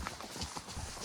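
Hooves of a horse or mule clip-clop along a rocky Montana mountain trail near a tunnel, a steady close rhythm of several quick footfalls with no talk.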